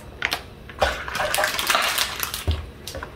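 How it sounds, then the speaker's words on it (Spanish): Cold water poured from a cup into a jug already holding hot water while making strawberry yogurt gelatin, a continuous splashing gurgle with uneven surges, fairly quiet and close, with no talking. "Y vamos a echarle ahorita esta de agua fría."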